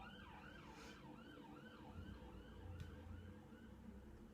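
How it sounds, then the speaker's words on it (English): A police car siren passes at a distance on a street, its wailing tone sweeping up and down repeatedly over steady traffic noise, fairly faint throughout. "Oh, another police car."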